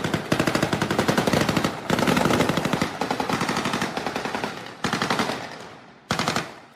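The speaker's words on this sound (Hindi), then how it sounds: "दनादन गोलियां भी बरस रही हैं।" Rapid bursts of automatic gunfire from soldiers riding armored vehicles on night-time Taipei streets, loud and dense, firing in long continuous volleys broken by brief pauses, with no talk.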